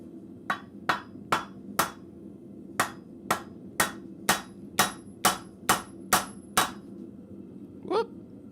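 A 3-pound ball peen hammer striking metal at a blacksmith forge, about a dozen sharp ringing blows in a steady rhythm, close and clear, over a low shop hum, then a short squeaky sound after a pause.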